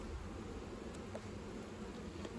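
Honey bees hum steadily at an open hive while a colony is being split, a dense, continuous buzz close by with no pauses and no voices.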